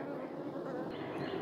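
Honey bees in an opened hive with no laying queen hum in a dense, steady drone close by, a sustained buzzing mass without pauses.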